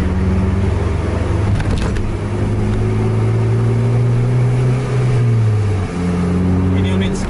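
A Scania tour bus races on a road in Medan, its engine roaring loud and close in a sustained heavy drone that rises and falls in pitch as it revs.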